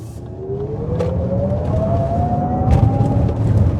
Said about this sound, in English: Very strong acceleration.